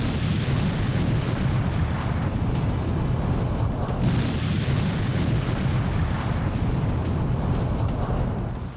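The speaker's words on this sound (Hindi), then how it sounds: "ये वीडियो ईरान के परमाणु प्लांट इस्फहान पर हमले का है" Continuous heavy rumbling roar from explosions during a strike on Iran's Isfahan nuclear plant, a dense, distant booming wash that stays loud and steady throughout without any voices.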